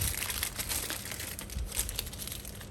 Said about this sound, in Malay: Kemudian ambil piping bag yang berisi adunan putih.